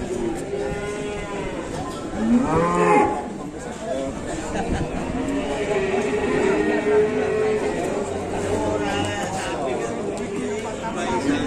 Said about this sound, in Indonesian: Di sebelah sana nanti saya akan perlihatkan sapi juga raksasa